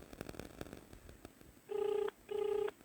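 An outgoing phone call rings back twice, two clear tonal bursts about half a second apart, after a stretch of soft clicks and low background noise.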